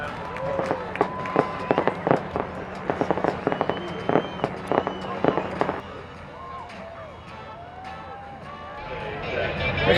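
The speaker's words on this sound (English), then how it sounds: "at the nighttime events, when the fireworks go off" Fireworks at a nighttime Albuquerque balloon festival show, a rapid run of sharp bangs and crackles for several seconds, then quieter distant pops with crowd voices and chatter underneath.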